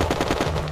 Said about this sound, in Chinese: 等一下我听到枪声